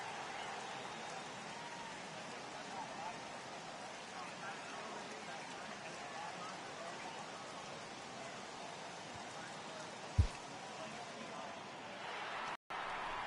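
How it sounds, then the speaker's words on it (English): Steady rain falls during a rain delay in the baseball video game MLB The Show 18, a continuous even hiss that lasts throughout, with commentators' voices faintly underneath. "Well, the rain is finally past us as we welcome you back."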